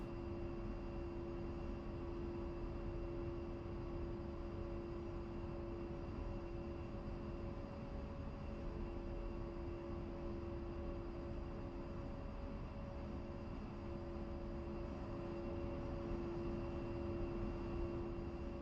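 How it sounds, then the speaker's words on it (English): A steady, droning jet engine hum with a constant whine rolls on unchanged as an A-10C taxis in the DCS World flight simulator, with no speech over it. "So we'll be taxiing pretty much the same way, except we'll have to cross 3 right."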